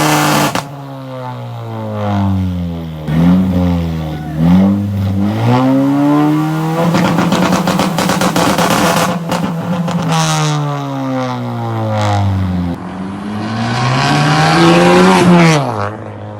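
A 2018 10th-generation Honda Civic Si with an FKX Racing downpipe revs hard and repeatedly, its loud engine note rising and falling through several throttle blips as it accelerates and passes close by.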